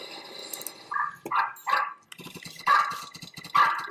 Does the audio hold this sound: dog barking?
yes